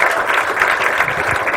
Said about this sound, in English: Can you give Rayne another round, big round of applause?